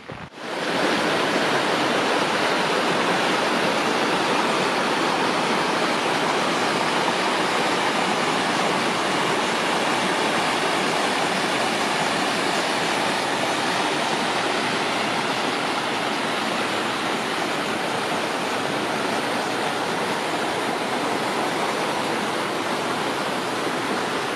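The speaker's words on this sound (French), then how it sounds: "je vais peut-être essayer de remonter jusqu'à la cascade pour vous montrer ça" A waterfall in the Hautes Vosges mountains roars as a steady, dense rush of water, close and continuous for the whole stretch with no voices.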